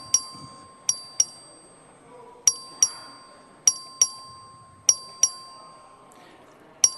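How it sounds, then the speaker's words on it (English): A bright bell rings in sharp paired strikes, repeating steadily for several seconds, rung by the clerk to call a record vote in the Texas House chamber, over a faint murmur of the room. "The clerk will ring the bell."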